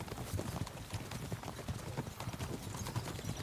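Horse hooves clip-clopping in Kingdom Come Deliverance II, a steady, moderately loud walking rhythm of hoof strikes that continues throughout.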